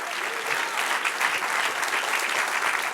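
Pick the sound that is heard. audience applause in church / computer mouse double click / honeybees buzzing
audience applause in church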